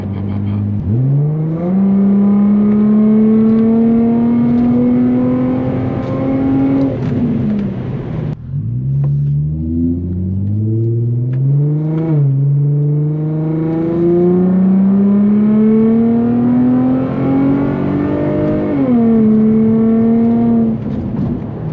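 A loud Infiniti G35 exhaust drones steadily with harmonic tones that rise and fall as the engine revs and lets off, crackling slightly between pulls on a back road.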